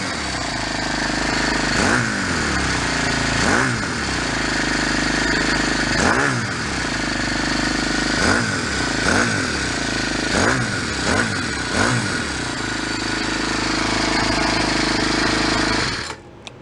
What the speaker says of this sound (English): What a cool little engine.